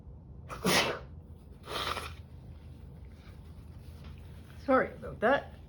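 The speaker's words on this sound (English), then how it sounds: "Oh, I'm going to sneeze." Two loud, close sneezes a second apart, followed after a pause by two shorter breathy bursts, with quiet room noise between and no talking.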